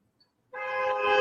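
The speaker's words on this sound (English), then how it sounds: "Honking people outside." A car horn honks outside, a single sustained blast that starts after a moment of near silence and holds steady at moderate, slightly distant volume.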